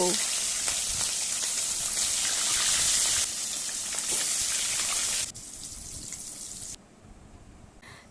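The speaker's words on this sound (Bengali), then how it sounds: "একইভাবে বাকি মাছগুলোকেও ভেজে নেব" Pieces of katla fish fry in hot oil with a dense, steady hiss of sizzling close by, dropping in loudness partway through as the frying settles.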